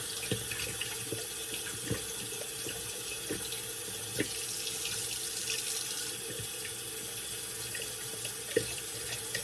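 Steady stream of tap water running into a sink as a shaving brush is rinsed during a Scottish wet shave, a constant close hiss with occasional small splashes and clicks, no voices.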